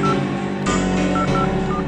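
Telephone dialing tones woven into a hip-hop track, short beeping keypad tones sitting on top of a dense, steady beat and music bed for a couple of seconds.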